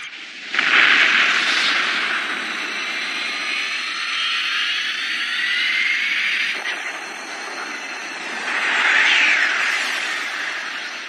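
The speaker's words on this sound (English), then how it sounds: "Increase engine output. Raising output from 40 to 99. Wave motion engines internal pressure rising." The wave motion engine of the space battleship Yamato powers up in an anime sound effect, a bright rising whine that swells in two surges, dips briefly, then surges again, with no talk.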